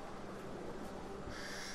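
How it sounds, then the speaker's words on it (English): Crows calling in a dark forest in The Walking Dead: Season 2 video game, a soft, somewhat muffled caw rising over a steady hiss of woodland ambience, quiet and alone. "Spooky crows."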